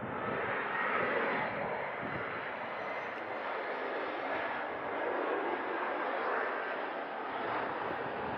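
An airplane passes overhead near abandoned Metra trains outside Chicago, a steady broad engine roar that stays fairly loud and even throughout.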